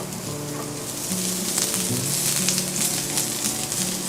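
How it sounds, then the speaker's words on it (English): Shaved shallot, fennel and garlic sauté in olive oil in a pan with a steady, close frying sizzle, crackling throughout and swelling louder partway in, with a low hum underneath. "So we're going to go into our pan and just saute a little bit."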